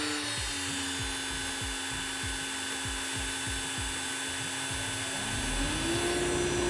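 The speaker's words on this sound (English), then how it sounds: "This is the CNC router." Workshop CNC router spindle running with a steady high whine over a low hum, accompanied by a series of rhythmic low thumps, with the pitch rising slightly near the end.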